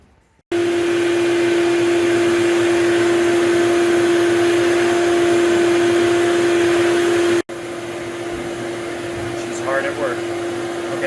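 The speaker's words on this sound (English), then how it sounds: "Now we're gonna take the CRB. We're going to vacuum it with that." A CRB carpet cleaning machine running in a room, a steady loud motor whine with a strong constant hum that cuts off briefly and restarts, continuous throughout with faint background sounds near the end.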